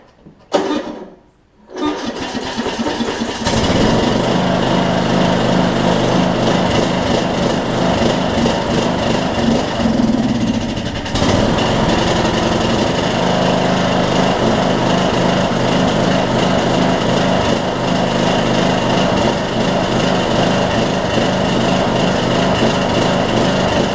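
A Briggs and Stratton 18hp Intek engine fitted with a Chinese Nikki carburetor cranks briefly, stalls, then catches and runs steadily and loudly at close range with a faint surging drone, with no talking.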